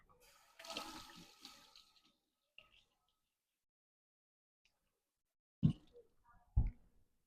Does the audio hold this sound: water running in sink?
yes